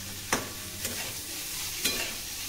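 Chhana, curdled with vinegar, is stir-fried dry in a pan for aloo chana, giving a steady close sizzle with a few sharp spatula scrapes spaced across it.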